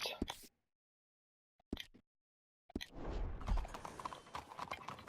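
Horse hooves clip-clop in Red Dead Redemption 2 as short bursts broken by silent gaps, then settle into a steadier run of hoof beats with some rustling and creaking.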